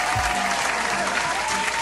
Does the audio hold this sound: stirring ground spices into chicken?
no